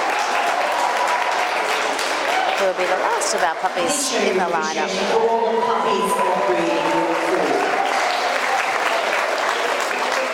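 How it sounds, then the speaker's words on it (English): A Brisbane Ekka dog show audience applauds and cheers steadily through group judging, a dense sustained roar of clapping with an announcer talking over it. "Our lovely Brisbane audience giving them a good round of applause with cheers"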